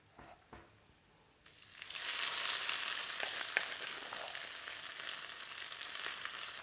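Rempah spice paste hitting a hot pot: quiet at first with a few faint knocks, then a loud, sustained hiss of frying that continues steadily with small crackles and stirring sounds.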